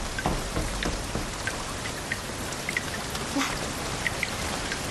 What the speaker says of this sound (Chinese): 下那么大雨